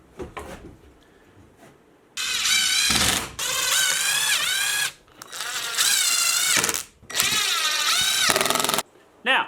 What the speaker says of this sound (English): you should be pre-drilling these, because pre-drilling them will stop it from splitting like it has a little bit